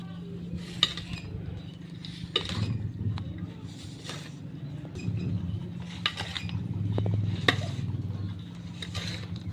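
Soy sauce and calamansi juice being stirred in a bowl, light clinks and scrapes of a utensil against the bowl in irregular bursts over a low steady hum, close and fairly quiet.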